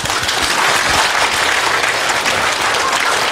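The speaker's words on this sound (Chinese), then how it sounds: "来拍拍" Listeners at a doctor's health talk clap their hands together, making loud, close, sustained applause that stays even throughout.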